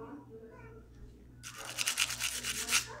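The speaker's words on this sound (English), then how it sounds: "any grime or anything, I'd scrape it down." A Glock pistol is scrubbed with a small brush in quick, rhythmic rubbing strokes that start halfway through, close and fairly loud after a quiet stretch with faint background hum.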